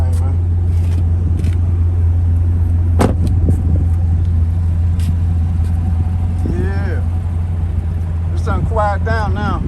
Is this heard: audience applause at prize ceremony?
no